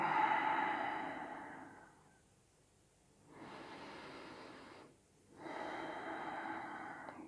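Slow, deep breaths drawn in and let out during a yoga twist, long airy swells separated by quiet pauses, close and steady with no talking.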